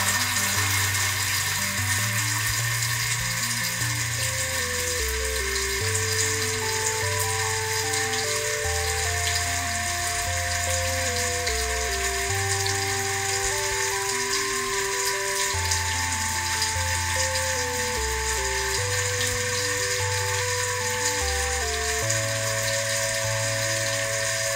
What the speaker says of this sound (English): Next, we'll turn on the water and let it run for 30 seconds to test the faucet.